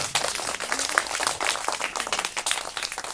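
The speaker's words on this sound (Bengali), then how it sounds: "সবাই হাততালি দাও" Hands clapping together in a steady, dense patter from an audience at a school welcome and farewell ceremony, fairly close and continuous throughout.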